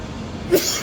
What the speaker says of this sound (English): I've never sneezed on camera before.